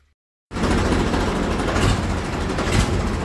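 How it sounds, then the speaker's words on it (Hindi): A farm tractor engine runs steadily as the tractor turns around in a sugarcane field, starting abruptly after a brief silence and continuing as a loud, close rumble. "ट्रैक्टर को आगे से घुमा के लाते हैं"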